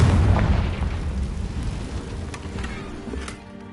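Hogwarts Legacy's Confringo explosive spell lands with a heavy booming blast that rolls away into crackling, rain-like debris and fades over a few seconds.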